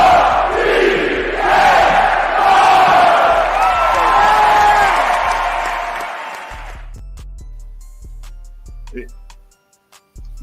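A basketball crowd roars and cheers loudly, with whoops and shouts swelling together before cutting off abruptly into near silence with a few scattered sounds.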